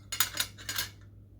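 Metal cutlery clinks against dishes at a meal of cooked fish, three or four quick bright taps in a row, close and fairly quiet, then stillness.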